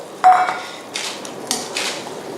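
Black squid ink fettuccine with sautéed shallots is tossed through chu chee sauce in a pan, giving a sharp opening clink followed by a few soft scraping and clattering bursts, no talk.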